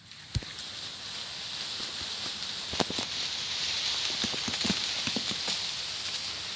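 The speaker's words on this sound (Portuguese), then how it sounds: "se vocês estiverem ouvindo essas pancadas aí de pouco, é piqui mesmo caindo" Pequi fruits drop from a shaken tree and strike the ground in scattered sharp thuds, a few louder knocks standing out against a steady outdoor hiss of rustling leaves.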